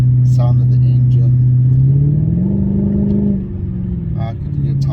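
A car engine hums in a low, steady drone while driving, with a brief rise in pitch as it picks up revs before settling back. A person talks over it.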